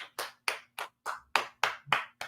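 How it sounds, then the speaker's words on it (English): Eight evenly spaced, loud, close claps ring out in a steady rhythm, each a crisp burst separated by silence, as a round of applause for a group. "Round of applause for our Standing Stone 1776"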